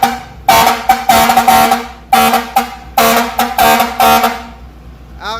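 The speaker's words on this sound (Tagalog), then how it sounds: "Fire air horn naman to mga Kabisyo." A 12-volt compressor fire air horn mounted behind a vehicle's grille, blasting loud, close bursts in an irregular pattern of short and longer honks.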